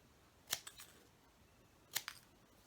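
Scissors snipping paper star embellishments for a December holiday journal page, two short crisp snips each with a quick follow-up click, close and fairly quiet, separated by near silence.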